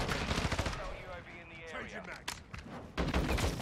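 Shotgun blasts in Modern Warfare 2 on the Shipment map, heavy booming reports at the start and again near the end, loud and close amid game noise, with a player talking over the action.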